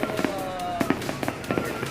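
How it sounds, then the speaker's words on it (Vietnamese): Lunar New Year's Eve fireworks at Hoàng Su Phì, Hà Giang highlands, Vietnam: a brief run of sharp pops and crackles at irregular intervals over a whistling tone, with voices in the background. "Đây là dàn pháo sáng luôn đấy."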